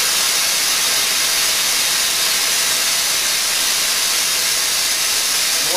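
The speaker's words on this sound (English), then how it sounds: "the compressed air at 100 psi is running through a Venturi nozzle, which is drawing a vacuum through this hose" Compressed air at 100 psi rushing through a Venturi nozzle to pull vacuum on a veneer laminating bag gives a steady, loud broadband hiss that runs unbroken and unchanging from start to finish.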